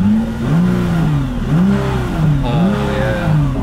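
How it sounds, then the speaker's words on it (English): Nissan GT-R R35 engine revving and accelerating up through repeated gear changes, a close, loud, steady roar rising and dropping in pitch about three times. "About to go for a cruise in Chris's dad's R35 GTR, my dream car"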